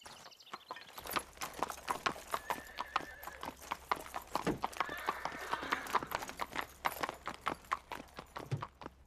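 Horse hooves clip-clop in the cartoon Horseland in a quick, steady walking rhythm throughout, fairly close, with brief soft vocal sounds and a short whinny-like note mixed in.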